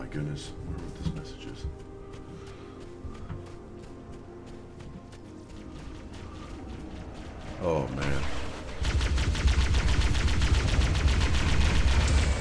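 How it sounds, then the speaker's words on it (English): Rapid gunfire in a video game, starting as scattered shots under speech and music, then swelling into a dense, loud, continuous burst in the final seconds. "Why are you shooting at me, you son of a bitch?"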